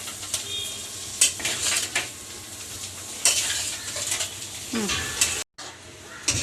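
Mashed potatoes worked into vegetables in a hot pan for a bread pakora filling: loud spatula scrapes and knocks against the pan over a continuous sizzle, irregular and close, with a brief dropout near the end.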